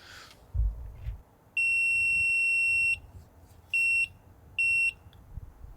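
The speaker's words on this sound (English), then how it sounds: "It just beeped twice, which means it's turned itself on." A diesel heater's remote controller gives a long high-pitched beep, then two short beeps in quick succession, clear against a quiet room.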